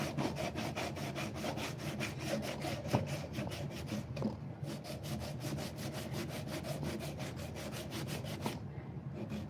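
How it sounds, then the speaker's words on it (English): A wooden mallet is sanded freehand with 80 grit sandpaper, a quiet, close, rapid back-and-forth scraping in an even rhythm that pauses briefly twice, with no talking. "Just running the closest thing I can do to a 45 freehand with this 80 grit."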